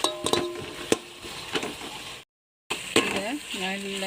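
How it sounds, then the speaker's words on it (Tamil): Chicken and biryani masala fry in a pot with tomato paste, a steady sizzle broken by spatula scrapes and knocks, a brief cut to silence, then frying resumes as a voice starts talking. "இதை நல்லா கிண்டி விட்டுக்கிட்டே இருக்கிறோமா, கறியை போட்டு நல்லா கிண்டி விட்டு எண்ணெய் பிரிஞ்சு வருதா"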